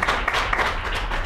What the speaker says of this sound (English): I kind of want to hear what they sound like when they applaud for